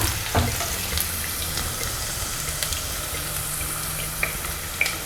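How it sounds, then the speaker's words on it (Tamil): Garlic sautés in hot oil in a pan with a dense, loud, continuous sizzle and a few faint stirring clicks scattered through it. "பூண்டு போட்டு கொஞ்சம் வதக்கிக்கலாம்."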